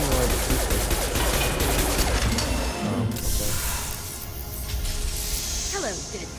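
Sustained rapid gunfire in the video game Mass Effect 2, a dense crackling stream of shots that thins out midway, with a voice talking over the action.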